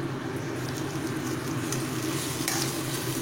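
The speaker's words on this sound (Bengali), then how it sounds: "গ্যাসটাকে একটু ফুল ফ্লেম দিয়ে দিলাম, দিয়ে মশলাটাকে আমি ফুটতে দিচ্ছি।" Spice paste frying in a pan over a gas stove on full flame, with a steady dense sizzle and bubbling, occasional stirring scrapes, close and continuous with no talk.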